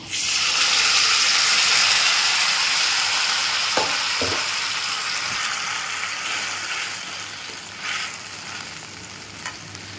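Small fish frying in a pan with mati dal and elephant apple: a loud, dense sizzle that slowly softens over several seconds, with a few brief clinks and stirring sounds and no talking.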